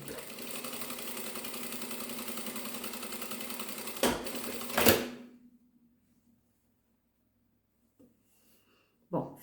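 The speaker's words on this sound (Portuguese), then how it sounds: "venho pra máquina e passo uma costurinha com um pezinho de máquina" A sewing machine stitching a seam on a small crossbody bag runs steadily for about five seconds, then stops abruptly, followed by near silence and a brief faint handling sound near the end.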